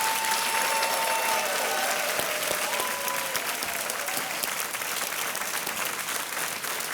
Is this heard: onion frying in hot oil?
no